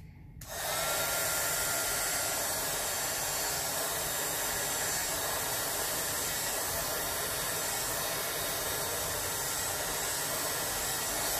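A heat tool blows hot air steadily over alcohol ink on a shoreline painting, a constant loud whooshing hiss that starts abruptly and runs unbroken throughout.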